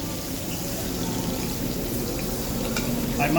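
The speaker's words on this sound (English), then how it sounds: "Once I brown these, because there's still mushrooms in here" Shrimp browning in a pan with mushrooms for shrimp scampi, giving a steady, dense sizzle with light scraping and stirring throughout, fairly close and even in loudness.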